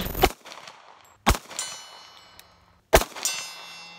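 Three shots from a Springfield 1911 pistol, each a sharp crack followed by a bright metallic ring off a steel target at range, spaced irregularly with quiet ringing decay between them.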